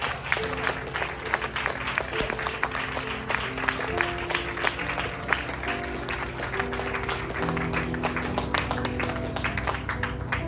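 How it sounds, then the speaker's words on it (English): Congregation at a tent revival meeting applauding as people come forward, a sustained dense clapping crowd with music sounding beneath it throughout. "Come on, let's give them a hand clap as they're coming up."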